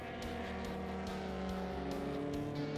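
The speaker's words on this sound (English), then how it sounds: "Ken Cloud leads Sean Allen down the straight" Racing cars roaring down the straight during a race, a loud steady engine drone with rising tones as the cars pass close by, heard on their own.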